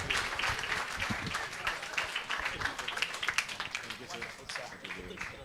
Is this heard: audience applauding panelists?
yes